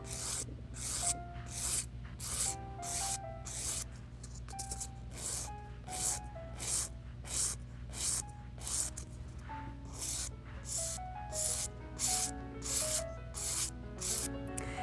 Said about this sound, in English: Now I'll finish the nail using a 240 grit.